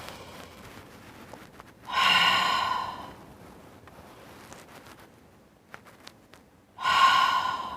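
Two deep, slow breaths drawn in through the nose during a guided breathing exercise, each a loud, airy rush lasting about a second with quieter room tone between them, close to the microphone and without talk.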